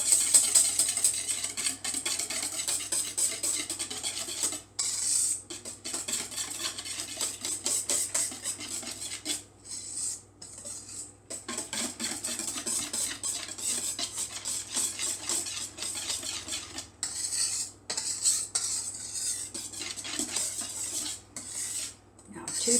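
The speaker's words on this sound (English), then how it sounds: "We're going to take our whisk and whisk it up." A whisk beats milk sauce in a bowl with fast, rhythmic metallic clinking and scraping against the sides, continuous and close with brief pauses, no voices.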